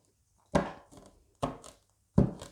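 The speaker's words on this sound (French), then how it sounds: "Je vais les prendre comme ça, je vais les couper." A deck of tarot cards being cut and tapped together, three sharp, close card slaps about a second apart, each with a short papery rustle after, with no talking.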